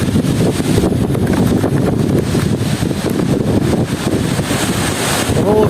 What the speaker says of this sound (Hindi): बहुत तेज़ हवा है, देखिए